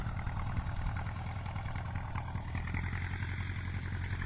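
A low, steady T-25 tractor engine idles with a constant rumbling throb, close by and unchanging throughout, with no voices.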